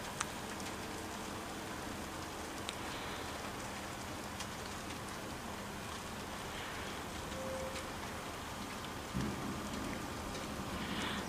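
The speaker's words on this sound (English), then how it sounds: "Because there's still a lot of thunder and lightning from in that direction." A thunderstorm sweeps in with steady heavy rain hissing on surfaces throughout, a low rumble of distant thunder swelling briefly near the end, and no voices.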